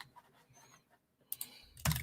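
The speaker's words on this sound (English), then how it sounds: "Oh, my keyboard is not working." Computer keys clatter in scattered light taps, then a quick cluster of sharper clicks near the end, close and fairly quiet with pauses between.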